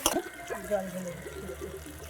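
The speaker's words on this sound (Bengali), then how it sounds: "জল ঢেলে দিচ্ছি।" Water poured into a pot of Bengali hilsa fish curry, a brief liquid splash and trickle against the metal pot after a short burst at the start, fairly close and moderately loud.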